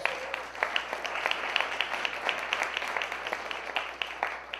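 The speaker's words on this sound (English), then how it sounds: "Let's give them all a round of applause." An audience at a 2019 annual meeting applauds the board and staff, a steady wash of many hands clapping with scattered sharper claps throughout, moderately loud and without talk.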